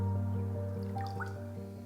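Vegetable stock poured into a soup pot, a short close liquid splash and dribbling trickle with a few drips over a low steady hum.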